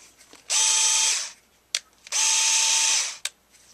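A Genesis 7.2-volt lithium-ion two-speed cordless screwdriver whirs in two steady bursts of about a second and a half each, each followed by a short click, running close and loud with no talk.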